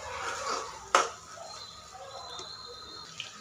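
Egg bhurji made with three eggs is stirred in a pan over medium heat, with one sharp scrape of the spatula against the metal followed by a faint sizzle and a soft later knock.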